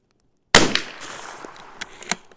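A single sharp report from a CZ 457 rifle at an outdoor range cracks out suddenly after silence, close and loud, followed by a decaying echo and a few faint clicks.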